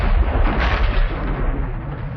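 Anti-tank missile fire and explosions from the 1973 October War in the Sinai sound as a dense, heavy rumble of booming blasts. The roar is continuous and loud across the whole clip, with no voices.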